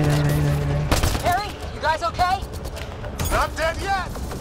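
Homing weapon shots ring out in Mass Effect: Andromeda, a few sharp reports with whooshing tails, spaced through the clip, while someone talks over them.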